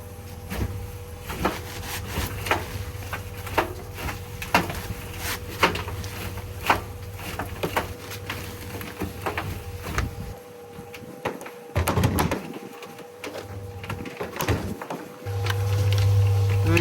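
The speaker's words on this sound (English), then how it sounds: "We've got my tumble dryer, we've got sand and cement. Let's turn this bad boy into a cement mixer." A household tumble dryer turning over a load of sand and cement, a steady low motor hum with a repeated knocking and sliding thud as the heavy mix tumbles round, fairly close with no talk.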